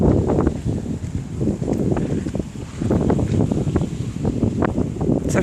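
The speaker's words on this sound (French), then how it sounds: "Je me mets là parce qu'il y a du vent." Strong gusting wind buffets the microphone with a low, continuous rumble and roar, loud and close throughout.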